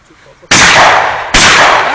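Two loud, close shotgun blasts ring out at a bachelor party, the second following the first less than a second later, each a sharp crack with a brief ringing tail.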